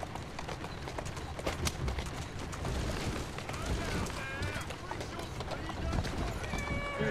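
A horse gallops in the Assassin's Creed Syndicate game, rapid rhythmic hoofbeats clip-clopping steadily with rumbling carriage noise, under someone talking.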